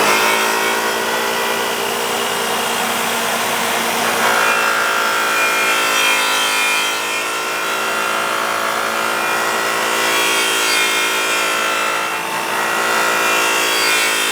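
An angle grinder with a sanding disc works the lip of a forged wheel, a loud steady whine holding close and constant throughout with slight dips as pressure shifts.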